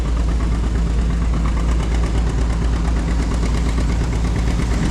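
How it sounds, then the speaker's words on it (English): An antique John Deere H tractor runs at a threshing bee, its engine chugging steadily and loudly at close range with a rough, even beat and no talking. "Got this nice little John Deere H here."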